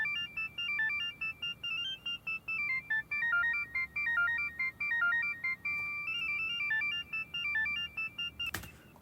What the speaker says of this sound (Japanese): このピッコロが入りますね。